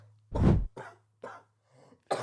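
Several coughs close by: one heavy, rough cough followed by three or four lighter, spaced hacks with short pauses between them.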